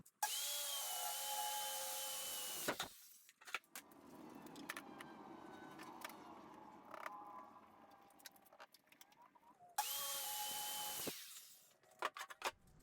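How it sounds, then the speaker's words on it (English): A power saw cuts through a sheet of plywood in two short, loud whining bursts at the start and near the end, with quieter shuffling and handling sounds between them. "I'm going to be cutting a 2-foot wide section of this plywood"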